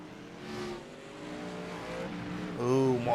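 Race car engine in an Xfinity Series sim race at Sonoma, revving and shifting at a steady distance with a rising surge near the end, while commentators talk over it.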